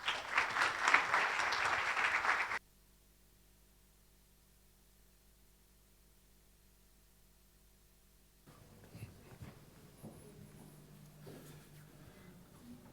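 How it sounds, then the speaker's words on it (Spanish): An audience applauds a lecturer with dense, lively clapping for a couple of seconds before it cuts off into near silence, followed later by faint room noise and a distant voice. "Démosle un aplauso a Danilo Tovar."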